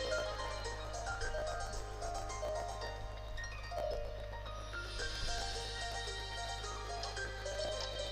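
A horse in the video game To the Moon gives several whinnies and neighs amid clip-clopping hooves and game music, moderately loud and with no talking.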